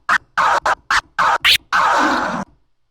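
Rapid vinyl scratches cut in and out in short bursts, chopped by crossfader clicks, ending in one longer drawn-out scratch; close and loud, no talking.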